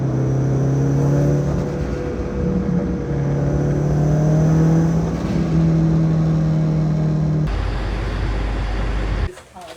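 A Subaru WRX runs inside a garage, its engine holding a steady, loud drone that rises and falls slightly before shifting abruptly near the end.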